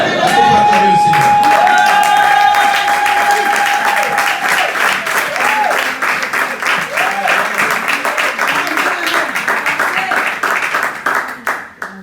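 A church congregation at a French-language worship service applauds loudly and steadily, dense clapping filling the room with a sustained tone and some cheering underneath, fading toward the end.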